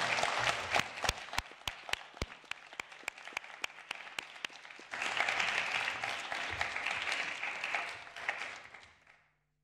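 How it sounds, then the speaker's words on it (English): Delegates at a General Assembly session applauding an adopted climate resolution, a crisp patter of separate claps swelling into a full, steady ovation before fading out. "Clapping is in order."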